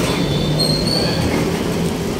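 A light rail (LRT) train rumbles loudly and steadily overhead above a street, its wheels squealing faintly above a constant roar, with no voices.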